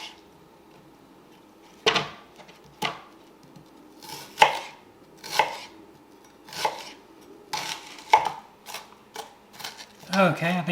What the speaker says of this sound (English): let's go ahead and cut up our bell pepper and onions here